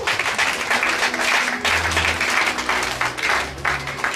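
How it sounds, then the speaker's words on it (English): A church congregation claps together in a sustained burst of applause, a dense, steady patter of many hands close by that keeps going without a break. "A clap offering for the Lord."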